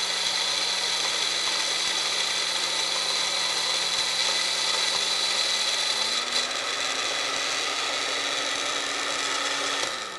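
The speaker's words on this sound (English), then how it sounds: "The change in noise is the whipped cream telling you that it's ready." A Magic Bullet blender whips cream with a steady, loud motor whine that runs without a break, its pitch climbing a little past the midpoint as the cream thickens, with no talking.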